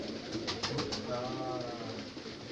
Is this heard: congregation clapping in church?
no